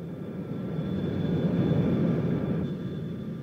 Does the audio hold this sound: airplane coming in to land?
yes